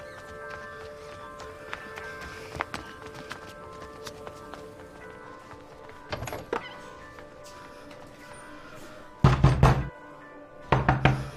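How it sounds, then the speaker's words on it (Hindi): Someone knocks on a closed room door. Sharp raps come in short clusters, a few early and two louder, close bursts near the end, over a quiet indoor background with no talking. "रिंकू दरवाजा खोल ना भाई"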